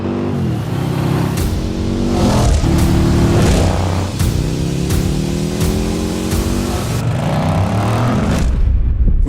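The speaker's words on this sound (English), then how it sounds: "making a real revvy, racy American V-twin" Liquid-cooled 108 cubic inch American V-twin motorcycle engine revving repeatedly, close and loud, each throttle blip climbing in pitch before dropping back, a rapid series of racy rises and falls.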